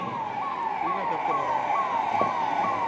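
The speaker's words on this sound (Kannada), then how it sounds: "ಈಗ ಆಂಬ್ಯುಲೆನ್ಸ್ ಘಟನಾ ಸ್ಥಳಕ್ಕೆ ಆಗಮನವಾಗ್ತಾ ಇದೆ" An ambulance siren wails, rising and falling in quick repeating sweeps, loud and steady, arriving at an air-raid mock drill in Shivamogga, with no voices or other sounds under it.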